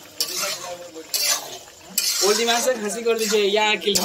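Meat stirred in a pot as it cooks, a scraping, clinking spoon against the vessel in bursts, with voices talking over much of it.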